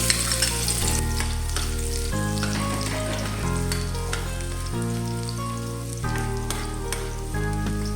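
Onions frying in oil for chicken asado give a steady, close sizzle that runs throughout, mixed under continuous background music with no talking.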